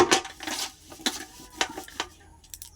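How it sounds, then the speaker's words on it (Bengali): A brass bucket is scrubbed by hand, making close, irregular scraping and metallic clinking strokes with short pauses between them. "বালতিটা মাজবো তারপরেই বালতিতে করে জল নিয়ে আমি তোমাদেরকে ওগুলো ধুয়ে দেখাবো"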